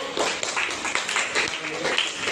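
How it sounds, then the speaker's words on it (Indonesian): A classroom group claps for the first group of presenters, brief scattered applause mixed with voices, moderately loud and close. "kita beri tepuk tangan untuk kelompok 1"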